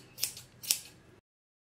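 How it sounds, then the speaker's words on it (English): Scissors snipping stray yarn strands on a pom pom, two crisp, close snips about half a second apart, then silence. "Fluff it to see if there are any longer strands of yarn and cut them."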